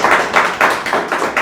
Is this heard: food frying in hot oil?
no